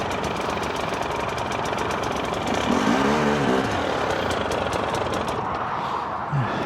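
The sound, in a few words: GasGas EC300 two-stroke enduro motorcycle engine running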